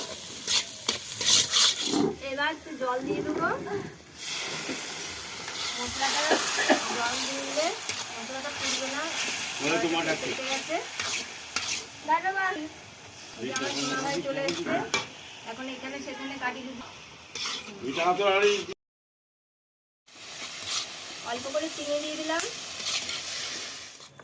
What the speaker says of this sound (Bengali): এবার এটা ভালো করে কষাবো একটু ভাজা ভাজা হবে